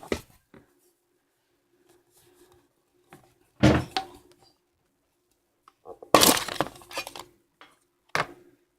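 Opening a mini collector's tin of football trading cards brings sharp metallic cracks and clicks in scattered bursts, with a louder rattling cluster near the end amid quiet gaps.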